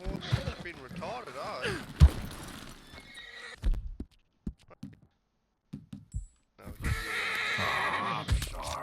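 A horse in a livestream video game neighs and whinnies in a high, wavering call, followed by scattered hoof clip-clops and short knocks, then a burst of louder rumbling game noise near the end.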